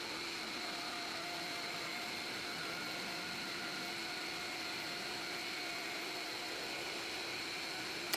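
A router flattens a wood cookie slab on a SpeTool flattening setup while dust collection runs, giving a steady, loud broadband whir with a constant drone and no breaks throughout.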